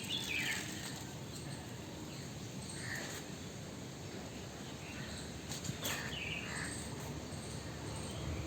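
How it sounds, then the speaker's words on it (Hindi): Birds chirp and call outdoors around an old-style village house, faint and scattered over a steady hiss of insects and open-air ambience, with no voices. "ये जो प्राकृतिक आवाज़ें हैं, नेचुरल वॉइसेस हैं चिड़िया वगैरह की"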